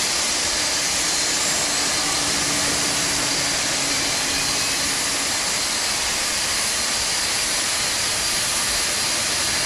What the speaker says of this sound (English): Starting engine number 1. Starting engine 1. Starter valve open. Perfect. Engine number 1 is going to be loud out here.